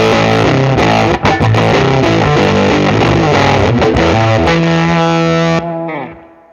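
Electric guitar driven through a Swollen Pickle fuzz pedal stacked in front of an MXR Sugar Drive overdrive, loud and saturated, playing a thick, dense riff and ending on a long sustained chord that fades out.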